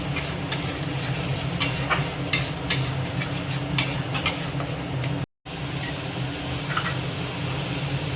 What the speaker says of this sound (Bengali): দিয়ে এবার এটাকে আমি ভালো করে ভাজা ভাজা করব।